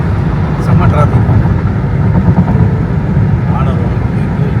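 Heavy road traffic on a route to Dubai airport rumbles as a dense, steady low engine drone, with people talking over it throughout.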